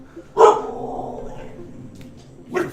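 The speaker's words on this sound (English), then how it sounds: "Stop barking." Roxy, a pet dog, lets out one sharp, close bark indoors, followed by a softer second bark a couple of seconds later.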